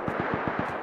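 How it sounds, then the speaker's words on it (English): Gunfire in the survival game Rust, a quick burst of about six evenly spaced rapid shots in under a second, fairly loud and close. "It's a lot of shooting."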